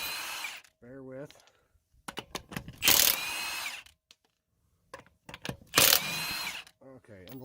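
An impact tool whirs and rattles in several loud bursts as lug nuts come off the front wheel of a 2012 GMC Acadia, with quiet gaps and someone talking between the bursts.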